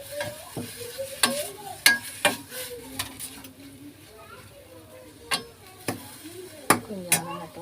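Mango rice sautés in a pan as a spatula scrapes and clacks against the metal in sharp, irregular knocks over a light sizzle, with a quiet voice in the gaps.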